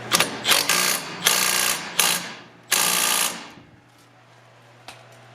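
A hand ratchet tightens the coilover suspension bolts on a 2022 Honda Civic, with several close, loud bursts of rapid clicking separated by short pauses before it falls quiet.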